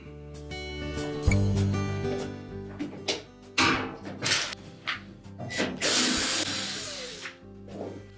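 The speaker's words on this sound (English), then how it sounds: "So we'll just remove those Phillips screws from the top." A power screwdriver backs Phillips screws out of the top of a Whirlpool washer's back panel, giving short whirring, ratcheting bursts with clicks and clatter between them over a steady low hum.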